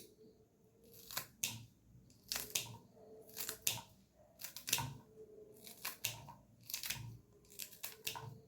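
Flat beans being cut into long strips for a mixed vegetable lentil dal, heard as crisp, close snips that come in quick clusters of two or three with short pauses between, quiet and without talk.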